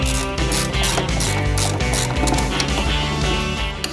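Ratchet clicking steadily while removing the two caliper bracket screws on a BMW, a dense continuous mechanical rattle up close with no talking.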